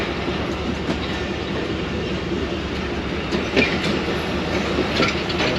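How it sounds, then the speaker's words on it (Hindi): The Badar Express passenger train departing Lahore railway station rumbles steadily with a faint clickety-clack of wheels on the rails, continuous and close, with no talking. "चल पड़ी है ये गाड़ी"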